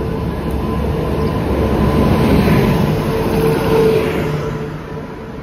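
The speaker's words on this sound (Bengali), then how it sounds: "9:25-এ এসে ঢুকলো কামরূপ এক্সপ্রেস" The Kamrup Express pulls into a station with a loud, continuous rumble of wheels and carriages rolling past on the rails, swelling and easing as the coaches go by, with no talk over it.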